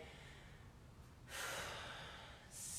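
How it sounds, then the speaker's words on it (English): Slow, steady breathing during a yoga session, a faint airy exhale followed by a stronger, louder breath, then another starting, quiet and close with no speech. "Slow and steady breathing"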